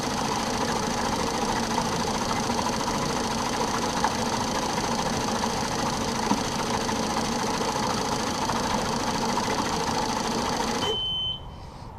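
JECS side feed fuel injectors run on a flow-testing bench, giving a steady, continuous buzzing hiss at moderate level that cuts off abruptly near the end, followed by a brief high beep.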